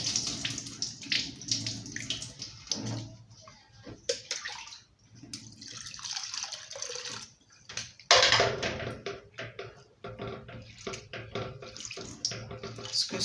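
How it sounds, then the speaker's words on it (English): Water runs steadily from a tap over over-soaked rice being rinsed and washed in a bowl, with splashing and swirling that swells and fades in bursts, close by and with no talking. "the rice is over soaked. So let's go. So I'm going to rinse the water out and wash it"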